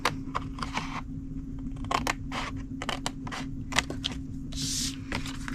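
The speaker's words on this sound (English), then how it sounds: "I go just above the score line and cut them off" Scissors snip through cardstock just above a score line, trimming small rectangles from a Christmas holly treat box; a run of short, crisp cuts with soft paper handling between them, close and fairly quiet over a low steady hum.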